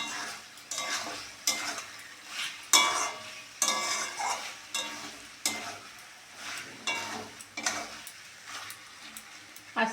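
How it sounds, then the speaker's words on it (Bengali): Chicken is stirred and fried in a pan for hotel-style chicken curry, with repeated scraping strokes of a utensil over a steady close sizzle and no talking. "এবার চিকেনটাকে ভালো করে কষে নিতে হবে।"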